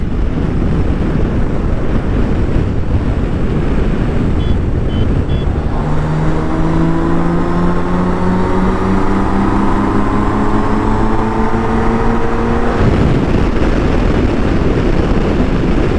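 A tuned BMW K1600 GT six-cylinder motorcycle riding at speed, engine note rising through rising pitch sweeps over heavy constant wind roar before easing off near the end.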